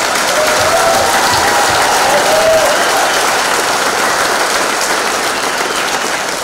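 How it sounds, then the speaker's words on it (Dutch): Loud, sustained crowd applause greets a returning Dakar rally team on arrival in Harskamp, a dense wash of clapping that holds steady throughout, with a few faint whistles rising above it. "ik wil echt een applaus voor deze mannen"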